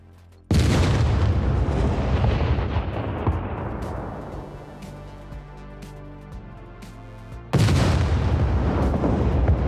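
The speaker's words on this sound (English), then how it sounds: "I'm just going to blow up 2 foundations now" Two explosive charges detonate against base foundations in the survival game Scum, each a loud, sudden boom with a long rumbling decay, the second blast arriving several seconds after the first.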